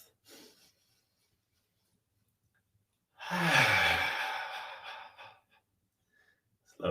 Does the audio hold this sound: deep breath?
yes